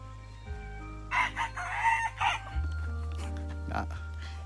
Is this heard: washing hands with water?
no